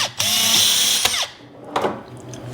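A power drill whirs in two bursts while repairing a loose ceramic floor tile, the first long and revving up and down, the second shorter, with mechanical rattling in between.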